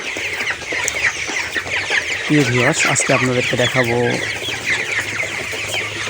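Chickens on a farm where the birds have loose droppings cluck several times in quick bursts near the middle, under someone speaking over steady background noise.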